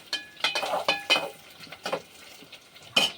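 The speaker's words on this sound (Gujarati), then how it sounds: "આપણે બટેટાને શેકવા જશે તેલમાં આ રીતના જે નાખી દીધા છે" Potato pieces frying in hot oil in a pan, with a spoon stirring and clinking against the pan in short, irregular bursts over a soft, close sizzle.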